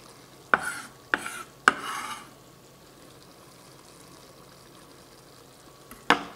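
A spoon stirs the savory stuffing mixture for stuffed tomatoes and peppers in a pan: three quick scraping knocks close together, a quiet pause, then one more sharp scrape.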